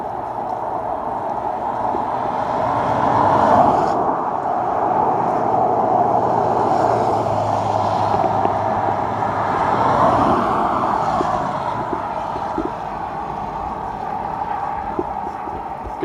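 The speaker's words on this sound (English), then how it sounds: "as I hear a car coming, I'll walk onto the soft shoulder so I'm not like right next to traffic" Cars pass close by on a road, heard from the shoulder: broad tire and engine roar swells and fades twice, over a constant wash of road noise.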